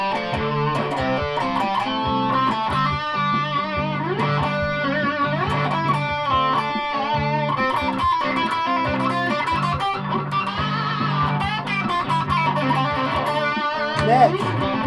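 A Yamaha RGX 121s electric guitar, run through a distortion pedal, plays a continuous run of overdriven notes and chords at steady volume with no talking.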